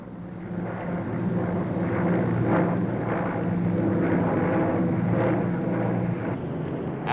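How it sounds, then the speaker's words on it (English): A Victor jet bomber flies past on its first public appearance, a broad continuous roar that swells and holds steady throughout, loud and fairly close with no pause. "The very latest in jet bombers, the Victor was there, making its first public appearance"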